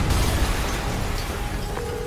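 A dense, rumbling explosion in the video game Spider-Man on PS4 fills the whole span, a broad roaring wash of noise that stays loud and heavy throughout with no distinct onset.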